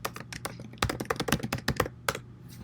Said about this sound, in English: type in your password